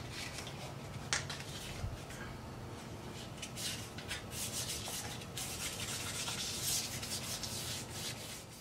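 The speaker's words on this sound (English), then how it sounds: "Now I'm going to go ahead and hit it with some 800 sandpaper." Hand sanding of an alloy car wheel with 800 grit sandpaper, a steady close scratchy rubbing that continues throughout with brief sharper scrapes and no talk.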